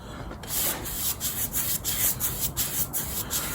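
Hand sanding on a painted wooden step, a steady abrasive rubbing in short repeated strokes, close and fairly loud, with no voices.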